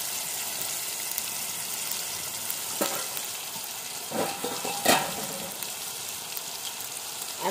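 Masala paste of garlic and coriander frying in oil for Malvani prawn masala over a wood-fired chulha, a steady soft sizzle with a few brief scraping stirs, no talking.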